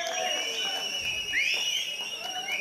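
An audience at a Pongal function in the UAE lets out shrill whistles, several sharp piercing blasts over a low crowd murmur in a hall, one rising whistle standing out loudest midway.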